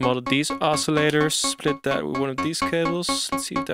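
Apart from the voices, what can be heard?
No everyday noises stand out.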